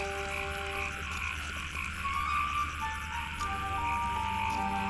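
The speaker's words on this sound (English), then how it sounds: "a succulent host, a twin-spotted tree frog" Twin-spotted tree frogs croak in a steady, rhythmic chorus in a misty Chinese canyon, the calls repeating continuously and fairly loud against a constant background hum.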